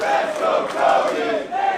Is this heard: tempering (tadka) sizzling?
no